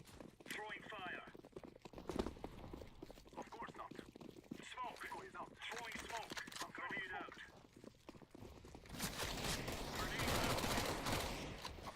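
Counter-Strike gunfire: a dense burst of rapid shots erupts near the end, following a stretch of talking with scattered game noise underneath.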